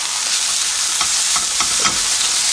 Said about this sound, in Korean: 불을 세게 해서 볶아냅니다.